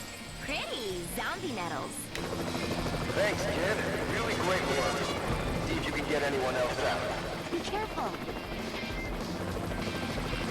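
Helicopter flying in the Lollipop Chainsaw video game, a steady loud rotor drone running almost throughout, layered with game music, clanks and effects, with people talking over it.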